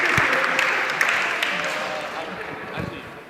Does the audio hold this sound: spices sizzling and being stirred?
no